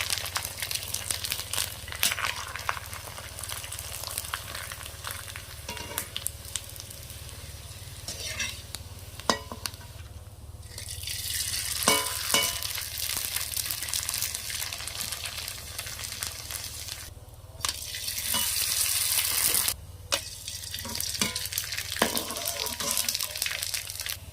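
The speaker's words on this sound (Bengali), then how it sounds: "তেলটা ভালোভাবে গরম হয়ে গেছে এবার আমি এগুলো ভেজে নেবো" Oil sizzles steadily as jackfruit papads fry in hot white cooking oil, with bursts of louder crackling and occasional stirring scrapes over a low background hum.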